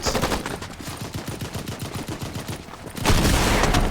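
Rapid automatic gunfire in a Fortnite match, a dense run of sharp shots that gives way to a louder, harsher burst of continuous firing near the end, heard close and alone.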